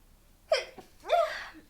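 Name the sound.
sneeze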